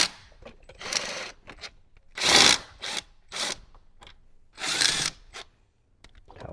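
A hand ratchet or power tool works on 10mm bolts holding a plastic channel panel on a Jeep Wrangler, giving several separate short whirring bursts with quiet gaps between them, close and without talk.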